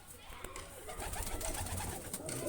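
Large flying pigeons coo softly and repeatedly, a low throaty burble close by, with faint human voices in the background.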